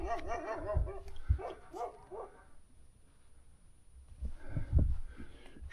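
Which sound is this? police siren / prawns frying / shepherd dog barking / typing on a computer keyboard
shepherd dog barking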